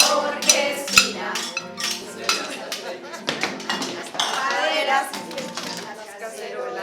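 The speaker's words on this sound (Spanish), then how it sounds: "Con los cacharros de mi cocina, voy a formar una orquestina." Kitchen pots, pans and salad bowls struck as percussion instruments, giving busy clattering metallic hits in a steady rhythm alongside singing voices, with one sharp louder clang early on.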